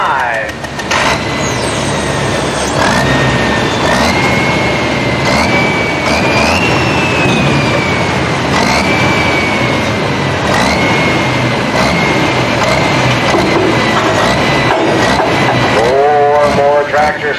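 A Super Pro farm tractor roars under full load at a tractor pull at Millers Tavern, a loud sustained engine howl with a wavering high whine across the run, while an announcer talks over the crowd.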